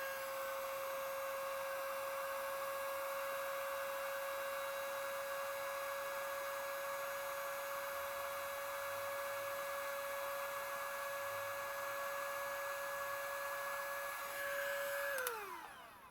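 A small handheld heat gun runs on its higher of two settings, giving a steady, fairly quiet whine and hum that holds evenly before winding down at the end, with no voices.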